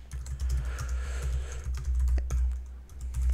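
Typing on a computer keyboard at a desk while working at a Linux serial terminal: quick, uneven clusters of sharp key clicks, close and clear, over a low steady hum, with no talking.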